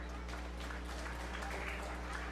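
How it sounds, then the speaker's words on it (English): Applause from a small crowd at a 4-H fair beef show, a steady, fairly quiet patter of clapping that runs through the whole moment over a low hum. "Let's give this young man a round of applause."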